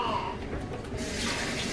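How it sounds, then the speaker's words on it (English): Water runs from a kitchen sink tap in a steady splashing stream, growing brighter and fuller partway through, with faint talking underneath. "I usually just use sink water"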